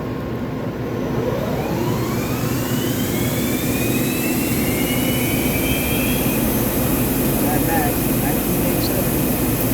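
A 2001 Daewoo Puma 400B CNC lathe spindle runs at its maximum 2,000 RPM, giving a loud, steady mechanical drone with a high whine that rises and settles.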